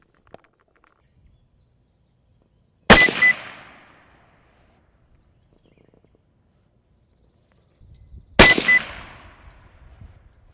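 Two loud, sharp rifle shots ring out several seconds apart while a Conquest V4 scope is sighted in outdoors, each crack trailing off in a short echo, with near silence between them.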